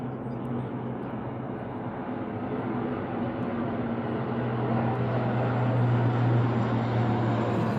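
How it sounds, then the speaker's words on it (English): An airplane flying overhead makes a steady, broad roar that slowly grows louder over several seconds, with no voices over it. "that's what leads me to a plane coming"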